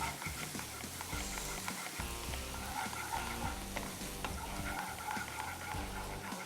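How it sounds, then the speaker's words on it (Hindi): Garlic, onion and tomato sizzle steadily in a hot pan while being stirred, a close, continuous crackling fry with soft scraping under it. "सबसे पहले लहसुन को फ्राई करेंगे, इसके बाद बिल्कुल बेसिक इसमें प्याज टमाटर डल रहा है"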